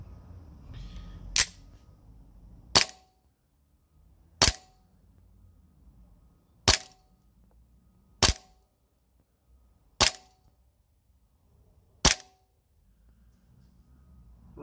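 An Army Armament TTI Sand Viper airsoft pistol fires green gas BBs over a chronograph, giving seven sharp, loud single pops spaced about a second and a half apart, with quiet between shots.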